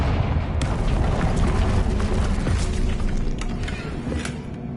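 The Confringo fire spell explodes in Hogwarts Legacy on PS5, producing a loud, dense, rumbling blast that roars without pause for several seconds.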